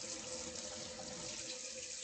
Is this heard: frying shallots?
no